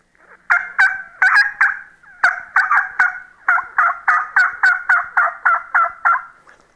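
A call imitating a wild turkey hen's excited, rapid calls repeats in quick clipped bursts with brief pauses between groups, loud and close, with no other sound.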